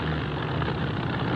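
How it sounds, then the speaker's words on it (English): In a radio drama sound effect, an engine runs with a steady, low droning rumble, unbroken and moderately quiet for about a second and a half, with no voices over it. "I don't like the sound of that engine."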